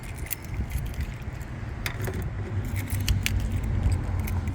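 Keys jangle and click in a series of sharp metallic bursts while a 1991 Lexus LS 400 is unlocked, close by over a low rumbling background.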